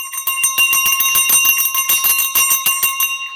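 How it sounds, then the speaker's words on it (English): A worn handheld bell used for sound cleansing is shaken in quick repeated strikes, producing a loud, bright, ringing metallic jangle with sustained overtones, close up with no talking. "the first thing that I want to talk to you about is sound cleansing. Now, this one is my bell."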